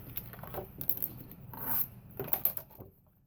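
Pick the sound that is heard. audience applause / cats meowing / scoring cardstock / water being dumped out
scoring cardstock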